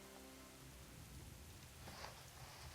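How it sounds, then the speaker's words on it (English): Rain falling in the video game World of Warcraft, a steady soft hiss of drops spread evenly around, faint and continuous with no voices over it. "Sounds like rain. Is it raining?"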